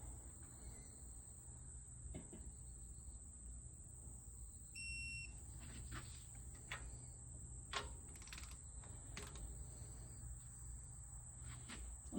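A single short, high electronic beep from a digital torque wrench, used while bolting aluminum heads onto a V8 race engine, rises over a steady shrill hum and scattered soft clicks.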